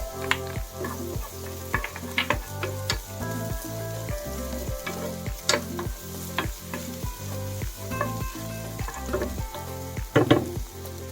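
Onions added after garlic frying and sizzling in a pan for spicy chicken pastil, with a continuous sizzle under a regular rhythm of stirring scrapes roughly every half second, close and clear, no one talking.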